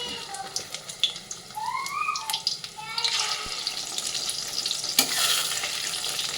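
Medium-sized chicken balls frying in white oil until reddened, giving a crackling sizzle with bubbly, watery spatters and occasional clinks of stirring, close by, with faint background sound that may be voices.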